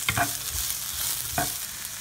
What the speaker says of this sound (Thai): ก็ลงแครอทนะครับ ผัดไปสักพักหนึ่งครับ